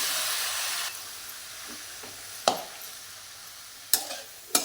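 Grated carrot halwa with added milk and cream stirred in a hot pan: a strong sizzle at first that fades to a softer simmering hiss, broken by a few loud scraping knocks of the spoon.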